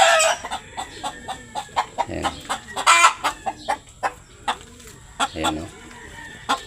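Breeder chickens in a loft clucking repeatedly in short, sharp bursts at close range, with scattered crowing-like calls and someone speaking briefly over the birds.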